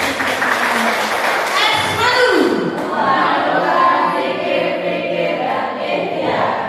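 Listeners give a round of applause at the close of a school presentation, steady crowd clapping heard beneath continuing speech.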